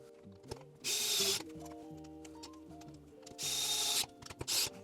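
Screws are driven into a 3D-printed part of a handheld vacuum kit, giving two separate bursts of close, whirring driver noise with small mechanical clicks and taps in between.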